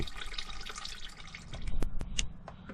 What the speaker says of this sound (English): I'm going to let that finish draining out